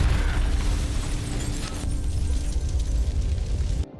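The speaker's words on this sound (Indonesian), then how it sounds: "bagaimana bisa mobil para perampok itu meledak" A robbers' car explodes in a movie scene, a loud booming blast with crackling, rumbling debris that sustains and then cuts off abruptly, with no voices.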